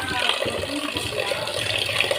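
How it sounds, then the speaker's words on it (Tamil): Running water splashes steadily from a tap as fish is rinsed under it, close and continuous. "இப்போ இன்னும் கொஞ்சம் ஒரு நல்ல தண்ணியில் கழுவிடலாம்."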